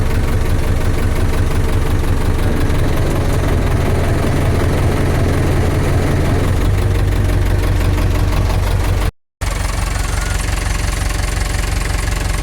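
A 40-horsepower tractor idles with a 3-metre seed drill hitched to a Metanga cultivator unit, a loud, steady, close diesel rumble with a knocking beat that briefly cuts out near the end, then resumes.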